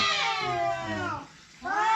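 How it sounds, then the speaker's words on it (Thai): Cats yowling and meowing at each other in a fight, long wavering caterwauls that rise and fall, loud and close, with a brief lull before another drawn-out cry. "มันทะเลาะกันผมไล่แมวแป๊บหนึ่งนะ ครับ"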